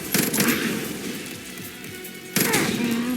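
Two loud gunshot bursts from the video game Far Cry New Dawn, one at the start and another near the end, with quieter game ambience between.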